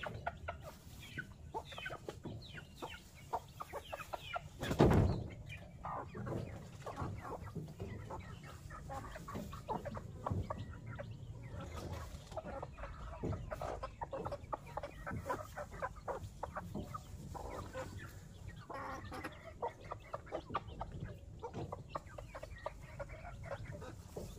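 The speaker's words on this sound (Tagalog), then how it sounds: "ito na rin yung tatlong manok, itong tatlo na nasa sa labas oh" Chickens cluck steadily at a moderate distance, a continuous busy murmur of short calls with one louder squawk early on, outdoors with no talking.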